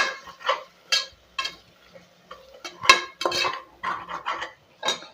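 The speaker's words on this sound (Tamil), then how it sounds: "ஒரு அரை ஸ்பூன் கரம் மசாலா, அவ்வளோதான்." Metal spoon scraping and clinking against a pressure cooker pot while turmeric and garam masala are stirred into mint pulao, a series of close, irregular scrapes and taps with brief pauses between them.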